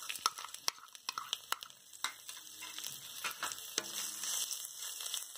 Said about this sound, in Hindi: लाल मिर्च फ्राई होने के बाद हम ये अदरक को इस तरह से हमने काट के रखा था वो डाल लेंगे।